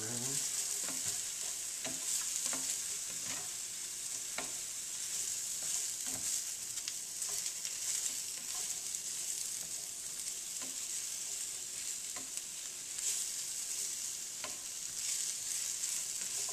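Pepper steak frying in a cast iron skillet, a steady loud sizzle with repeated scraping clicks of stirring throughout, no talking.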